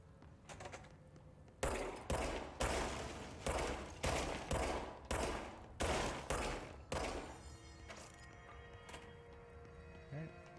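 Gunfire from the video game Control: a run of about nine loud, evenly spaced shots over several seconds, each with a sharp crack and short decay, followed by quieter ambient rumble.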